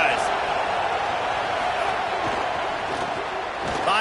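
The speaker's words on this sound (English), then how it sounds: "This crowd going to try to make life miserable for these guys." Broadband roar of a stadium crowd at an Alabama college football game in the SEC, steady and loud throughout with a slight swell at the end, with a commentator talking over it.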